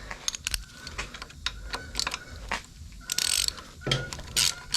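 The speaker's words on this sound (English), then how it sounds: "So we will loosen this." A chain adjuster on a Yamaha YFZ450R ATV is loosened with hand tools, giving close, crisp ratcheting clicks and sharp metallic clinks in irregular bursts against a quiet garage background.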